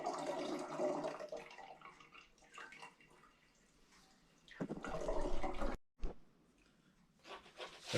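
Homemade grape juice from allotment grapes pours and drips through a strainer, a soft steady trickle and splatter with a louder gush midway, followed by brief pauses and renewed dribbling.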